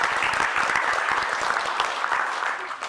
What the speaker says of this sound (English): just one more round of applause